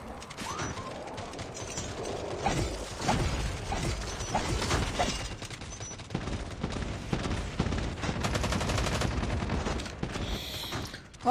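Weapon reload in the mobile shooter Call of Duty Mobile, with rapid mechanical clicks and ratcheting clatter mixed with bursts of distant gunfire throughout, fairly loud and steady, with no talking.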